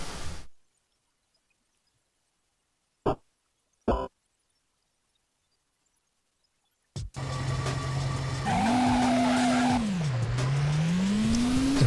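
A police car engine in the Driver 2 video game, set in Rio, starts up after a near-silent stretch broken by two short clicks, then hums steadily and revs up and down loudly.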